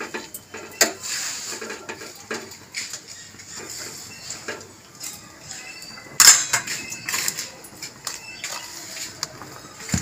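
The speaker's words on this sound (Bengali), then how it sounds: "নাড়িয়ে নেবো।" Fried mixed vegetables for a Bengali-style mix veg being stirred in a pan, with intermittent clanks and scrapes of a spatula on metal, one sharp knock partway through, and quiet stretches between.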